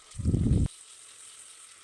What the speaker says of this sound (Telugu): 2 స్పూన్లు అల్లం వెల్లుల్లి పేస్ట్ వేసుకోండి. అది కొంచెం ఫ్రై అవ్వనివ్వండి.